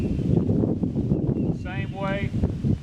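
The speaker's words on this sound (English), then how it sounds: "I'm sorry about the wind, guys" Wind gusts steadily through pecan trees in an outdoor orchard, a continuous close rushing across the whole stretch while a person talks over it.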